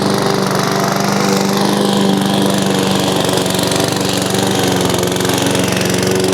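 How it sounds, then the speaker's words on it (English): An Amazon Smartpower electric mower cuts through overgrown grass, a loud steady whirring drone with the motor straining under load, close by and without talking. "my electric mower was having a hard time with this"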